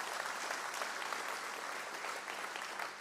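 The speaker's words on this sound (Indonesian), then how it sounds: "Tepuk tangan yang keras lawan." A church congregation claps loudly and steadily during a sermon, a dense even wash of applause lasting the whole stretch with no talking.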